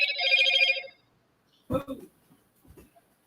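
A phone's electronic notification chime plays a short, bright, stuttering tone for about a second, followed after a pause by a couple of people talking nearby.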